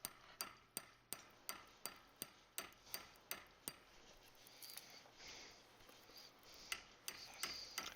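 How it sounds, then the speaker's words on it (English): Hammer blows break a hole through a brick house wall to run a 3/4 inch PEX main water line, a steady series of sharp, evenly spaced strikes followed by gritty scraping and a few scattered knocks. "we're breaking a hole through the brick wall"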